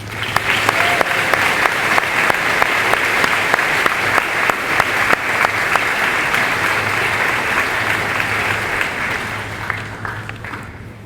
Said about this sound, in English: Let's have another round of applause for both of you.